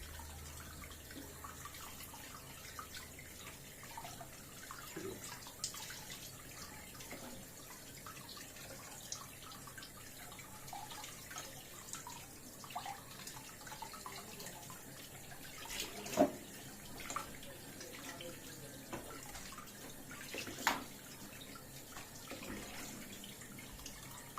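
Tap water runs steadily into a kitchen sink while raw chicken wings are rinsed under it, a continuous low wash with occasional splashes and clatters.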